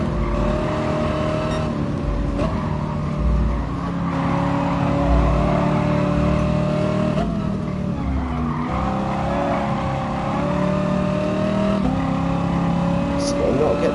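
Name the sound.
race car driving in Gran Turismo Sport video game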